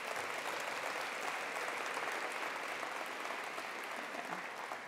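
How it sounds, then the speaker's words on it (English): Sustained applause from a luncheon audience at a community college address, steady and even throughout with no speech over it. "Can we give them a round of applause?"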